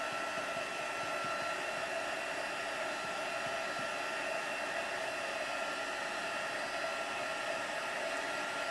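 A hair dryer blows steadily over wet paint on paper, a continuous close whooshing whir at even loudness throughout, with no talking.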